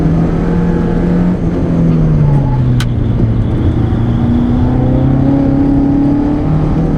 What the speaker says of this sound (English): accelerating out of the toll booth like a vandal